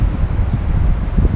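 Wind on a calm day at an outdoor hydroponic lettuce garden, a steady low rumbling gust buffeting the microphone with faint rustling and no voices.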